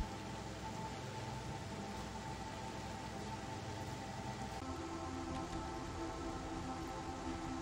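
Steady rain in the video game Satisfactory makes a constant, even hiss with no breaks, fairly soft and unchanging throughout.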